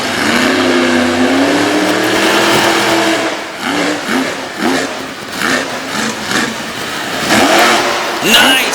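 Monster truck engine at a Monster Power competition in Brookville, Pennsylvania, loud sustained revving that rises and surges in pulses, with an announcer talking over it.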